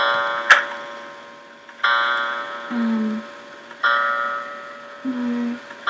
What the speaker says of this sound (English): Okay, that's the clock.